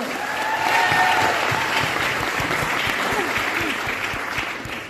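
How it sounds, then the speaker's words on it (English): An audience at a Black History event claps in a sustained round of applause for everyone on stage, with a faint voice or two under the clapping. "Can we give another round of applause to everyone?"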